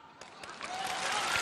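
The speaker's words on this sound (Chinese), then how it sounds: "你听听这个掌声" Audience applause fills a televised comedy sketch stage performance, a broad wash of clapping that swells steadily and grows louder toward the end, with no talk over it.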